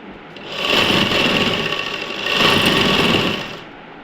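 A sewing machine stitches a housecoat waist seam, a fast steady whirring hum in two close bursts with a short easing between them, alone and up close.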